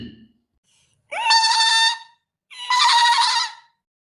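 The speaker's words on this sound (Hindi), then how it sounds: "उसी को दबा देता था जिससे बकरियों के मिमियाने की आवाज आती थी" Goats bleat twice from a hidden tape recorder, each loud, nasal, wavering call lasting about a second, separated by a brief silence, with a faint low thump just before.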